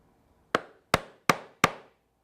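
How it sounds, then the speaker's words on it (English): A half-inch oblong punch is struck into leather for a quiver, four sharp, close, evenly spaced knocks with short decays in quick succession, no talk. "I will punch all of the slots."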